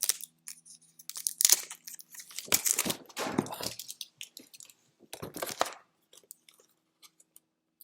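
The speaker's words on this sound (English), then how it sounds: "I'm still taking tape off." Strips of tape peeled from a comic art package in a quiet room, several separate bursts of rough tearing and crinkling, close and fairly soft, with short pauses between pulls.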